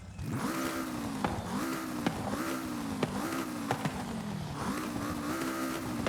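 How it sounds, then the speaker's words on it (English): A car engine revs repeatedly in Forza Horizon 5, pitch climbing and dropping with each gear shift, loud and continuous in a synthetic, game-like tone. "This is generic car sound number one."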